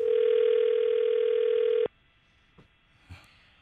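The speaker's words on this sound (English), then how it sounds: "Now I'm calling the home phone. I'm calling the landline" A single long, steady ringback tone sounds on a call to a home landline, loud and unbroken for about two seconds before cutting off abruptly, followed by a few faint clicks and near-silence.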